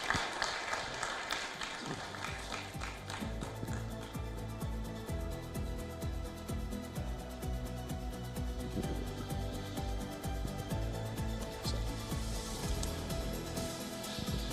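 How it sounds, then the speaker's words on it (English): Audience applause at a panel discussion during a global summit, sustained steady clapping from a crowd filling the room, fairly even in level throughout with faint voices beneath. "Please, a round of applause for our panelists here"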